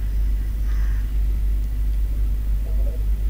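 A vehicle driven in Fortnite gives off a steady, loud low engine rumble that holds without a break from start to end, with faint background tones above it.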